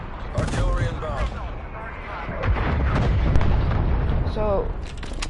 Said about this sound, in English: Artillery inbound.